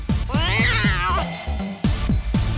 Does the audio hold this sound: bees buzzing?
no